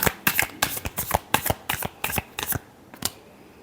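Tarot cards being shuffled up close make a rapid series of crisp, loud riffling bursts, about a dozen in a quick uneven rhythm, each ending with a slap as the deck comes together.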